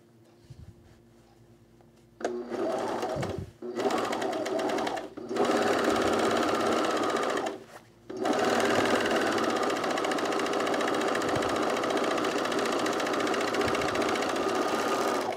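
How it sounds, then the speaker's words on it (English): A sewing machine set on a vibration pad stitches a men's utility jacket in loud, steady whirring bursts that start, stop briefly and resume, with a quiet hum between runs. "So I have my machine on a vibration pad, but because the underside of the pad has this peel and stick thing, it is sliding across my table."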